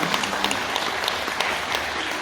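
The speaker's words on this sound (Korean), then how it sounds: "큰 박수 한번 주시고요." Audience members at a farm cooperative training gathering clap together in a continuous, close, evenly textured burst, with no voice over it.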